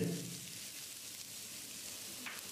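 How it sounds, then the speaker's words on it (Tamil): Quiet, continuous sizzling of finely chopped onions sautéing in oil with cumin, a soft even hiss with no talking. "வெங்காயத்தை கண்ணாடி பதத்துக்கு வதக்கிடலாம்."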